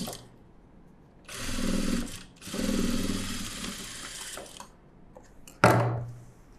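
A sewing machine runs in two close, steady bursts while stitching the front cup of a blouse, then falls quiet before a sharp clack near the end.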